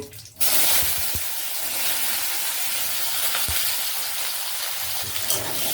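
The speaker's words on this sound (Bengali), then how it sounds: "আলুগুলোকে কড়াতে দেওয়ার পরে ভালো করে আলুগুলোকে ফ্রাই করে নেব" Potatoes land in hot oil with cumin in a kadai, setting off a sudden loud burst of sizzling that settles into a steady, close crackle with a couple of soft knocks.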